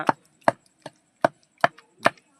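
Green chilli chutney gets pounded in a stone mortar, giving six sharp, evenly spaced thuds in a steady rhythm, each clear and close with near silence between them.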